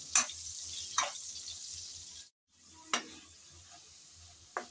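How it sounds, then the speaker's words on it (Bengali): Salted, turmeric-dusted potatoes fry in oil left from frying cauliflower, a soft steady sizzle broken by a spatula scrape roughly every second and a brief silent gap midway. "এখন নেড়ে চেড়ে ভেজে নেব"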